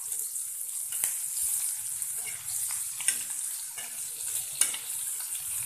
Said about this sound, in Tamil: நான் எல்லாத்தையும் ஃப்ரை பண்ணி எடுத்துட்டேன்